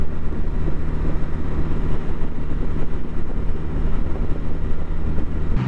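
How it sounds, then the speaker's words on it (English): Steady low rumble of wind buffeting and a motorcycle engine droning continuously, recorded from a helmet camera while riding at speed, with no voices. "this is just the ambient noise of the wind and the motorcycle on its own."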